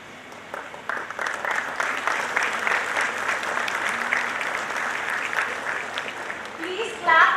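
Sustained audience applause in a hall at a university orientation programme, many hands clapping steadily for several seconds, with a voice speaking over it near the end.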